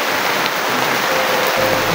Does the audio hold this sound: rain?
yes